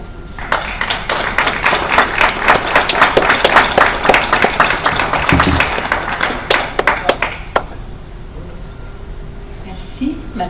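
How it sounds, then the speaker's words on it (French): A Longueuil city council chamber breaks into dense, sustained applause that carries for several seconds, then thins to scattered claps and fades into room quiet. "ça mérite une solide main d'applaudissements"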